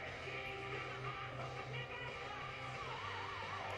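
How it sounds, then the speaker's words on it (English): A faint wailing siren marks the end of a quarter at an academy football game, its tone rising and falling over a constant hum of distant stadium ambience, with no talking. "So there's the siren"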